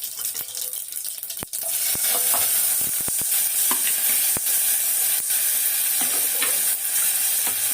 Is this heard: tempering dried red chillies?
yes